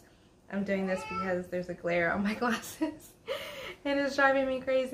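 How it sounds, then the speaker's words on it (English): A house cat below the speaker meows in a short, rising wail, briefly alone between stretches of nearby talk. "pardon my cat who is down below me singing to you guys"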